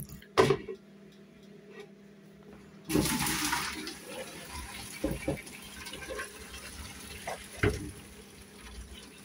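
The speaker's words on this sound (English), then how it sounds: "So drain off the water." Hot water drained off boiled food in a kitchen, a sudden steady gush starting partway through, preceded by a sharp clatter and punctuated by knocks of the pan, fairly close with no talk.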